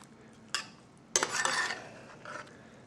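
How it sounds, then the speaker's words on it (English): Spicy tomatoes being stirred in a pot, with a few short scraping and clattering bursts of utensil against cookware, one longer and louder stretch in the middle, over a quiet background. "Put it in there and stir. That's right. Stir that up real good while we're going."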